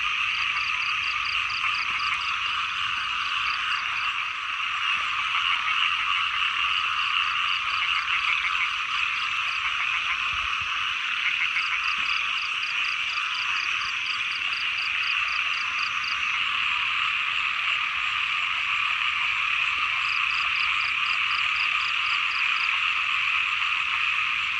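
Frogs croak in a dense, continuous chorus beside water, a steady droning din broken by bursts of rapid repeated clicking calls, loud throughout with no voices.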